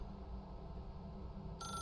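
A telephone starts ringing near the end in The Stanley Parable: Ultra Deluxe, a bright electronic ring cutting in over a low, steady ambient hum.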